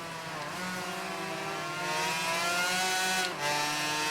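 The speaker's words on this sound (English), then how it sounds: "As we rev it up for 2 laps of night fun" Racing motorcycle in Ride 3 at the start of a two-lap night race in the Heritage Cup, its engine revving and climbing in pitch, loud and close, with a brief dip before rising again.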